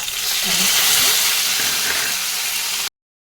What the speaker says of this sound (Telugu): ఎండుమిర్చి విరగదీసి వీటిని ఇలాగా సన్న కట్ట మీద వేయించుకోవాలి.